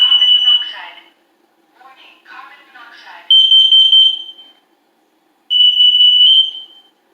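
Combined smoke and carbon monoxide alarm being tested at home, loud piercing beeps in two long bursts separated by a pause, with people talking near the start and between.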